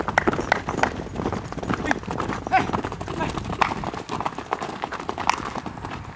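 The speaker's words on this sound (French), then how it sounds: "C'est l'heure de la sortie pour la promenade des chevaux." Horses out on a walk in Tiaret, hooves clip-clopping in a steady uneven patter on hard ground, close by, with people talking over the hoofbeats throughout.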